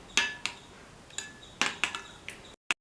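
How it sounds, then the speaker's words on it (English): Carrot and tomato being squashed and mixed into curd in a dish, heard as a handful of sharp utensil clinks and taps against the bowl, close by, in short irregular bursts with brief silences. "Squash the ingredients and incorporate it nicely into the curd."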